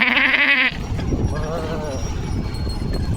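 A goat gives one loud, close, wavering bleat at the start, followed by vocal sounds and outdoor rumble during an off-road ride through mud.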